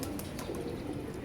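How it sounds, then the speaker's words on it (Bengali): A pigeon gives soft, low coos close by, a short murmuring burst over a faint watery background, with no voices. "এই মাস 2 আগে এই কবুতরটা এসে পড়ছে, এই দেখেন"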